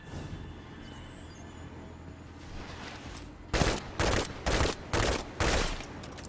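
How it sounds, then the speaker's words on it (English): Rapid bursts of pulse rifle fire in a Destiny Crucible match, five loud, evenly spaced volleys after a quieter stretch of ambient game sound. "And I'm testing out this pulse rifle."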